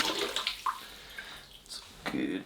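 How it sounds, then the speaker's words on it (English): Water splashing in a glass pickle or cookie jar used as an aquarium, a few short sloshes and splashes as the jar is lifted, close and moderately loud. "I'm just going to pick this one up"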